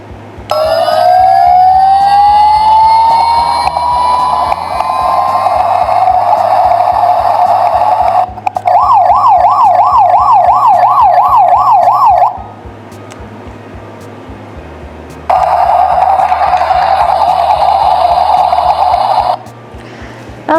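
A Maxx Action toy helicopter sounds its siren, loud and close: a rising wail, then a fast warbling alarm, a pause with a low droning hum, then a steady siren tone, all over a continuous electronic drone.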